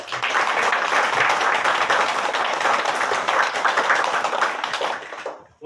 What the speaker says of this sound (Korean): 사실 그분들의 수고와 감사의 마음을 전하는 큰 박수로